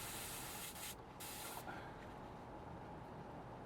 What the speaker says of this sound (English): Just going to turn the air pressure up and see if I can blow it out